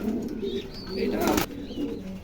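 Netherlands-bred racing pigeons coo softly close by, with a brief burst of wing flapping in the middle and a faint voice in the background.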